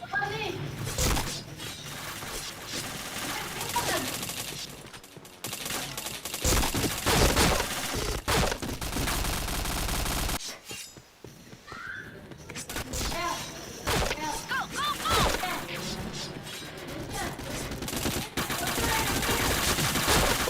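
Gunfire in a multiplayer tactical shooter, with bursts and rapid shots layered over a dense game soundtrack and effects, while players talk excitedly throughout.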